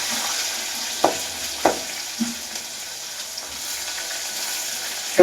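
Onions fry in a pan with peas, a steady close sizzle broken by a few sharp scrapes or taps of a utensil stirring them, with no talking.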